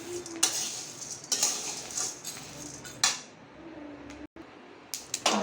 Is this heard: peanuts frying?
yes